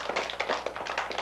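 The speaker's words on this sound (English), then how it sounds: "Round of applause for Barbara." An audience applauds for Barbara with a brief burst of light, quick claps, fairly soft and close, with no voices over them.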